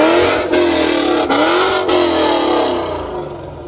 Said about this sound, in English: I'm gonna give it a couple revs so you guys can hear what it sounds like